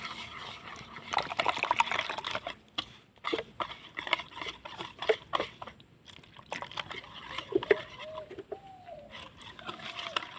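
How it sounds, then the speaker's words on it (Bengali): Semolina with a pinch of salt and 80 grams of sour yogurt is stirred as water is added bit by bit, producing soft, wet scraping and squelching close by. Faint bird calls sound in the background. "এবার আমি অল্প অল্প জল দিয়ে গুলে নেব।"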